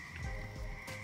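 A gray tree frog croaks close by in a single short burst at night.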